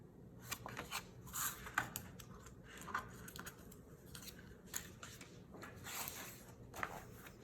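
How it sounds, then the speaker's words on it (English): Scissors snipping a notch into folded paper book signatures, a handful of short crisp cuts with small rustles of paper in between, close and fairly quiet. "I also like to cut a notch out of the top so that I just very quickly know what is head"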